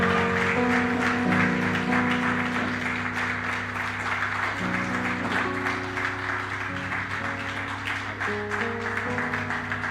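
A church congregation applauds to welcome two visiting coordinators. A steady wash of clapping runs throughout under sustained keyboard-like music, with little talk.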